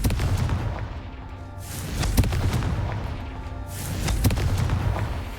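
Confringo spell explosions boom through Hogwarts Legacy combat, loud and dense, a rolling series of blasts and crackling impacts.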